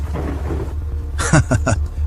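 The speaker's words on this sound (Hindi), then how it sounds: "अचानक एक तेज बिजली कड़कती है और पूरा इलाका रोशनी से भर जाता है।" A cartoon thunderclap cracks after a brief low rumble, several sharp bursts in quick succession, loud and close.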